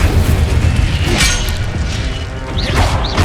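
The Incendio fire spell cast in Hogwarts Legacy, a loud burst of booming, crashing impacts with whooshing flames and rumbling, followed by a couple of sharper swishes near the end.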